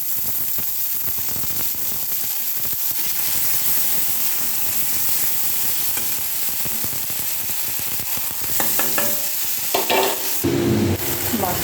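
Ginger, onion and garlic paste frying in hot oil for a katla fish curry, a loud continuous sizzle and hiss with stirring scrapes, growing busier and spitting toward the end.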